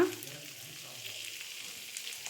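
Onions and curry leaves with tomato ketchup frying in a pan give a soft, even sizzling hiss close by, low and steady for a couple of seconds.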